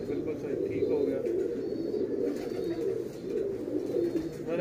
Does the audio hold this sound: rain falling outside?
no